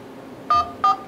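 Two short touch-tone beeps from a phone keypad sound close and clear, one after the other, as a voicemail password is entered on a Nexus 6 phone.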